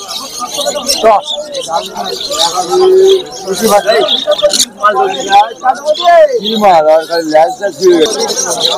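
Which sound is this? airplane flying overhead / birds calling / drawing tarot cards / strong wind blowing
birds calling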